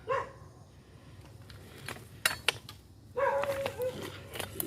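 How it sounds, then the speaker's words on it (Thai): A dog barks a few times at a distance, sharp yaps scattered over outdoor ambience with a whine and insect-like hum. "เสียงสุนัขข้างบ้านก็เห่านะครับ"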